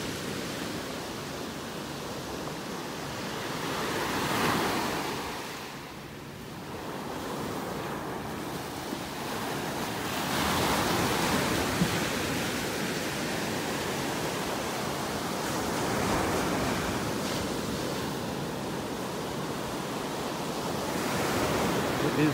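Ocean waves roll in and break on a North Naples, Florida beach, a steady broadband surf wash that swells and recedes in slow surges, with light wind buffeting the microphone and no voices.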